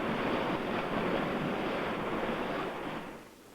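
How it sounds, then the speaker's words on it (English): Ocean surf crashing on a shore, a continuous loud broadband wash of breaking waves that holds steady and then eases off near the end, with no voices. "when you see waves like that crashing on the shore"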